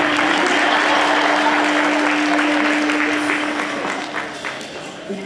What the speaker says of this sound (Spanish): un aplauso por eso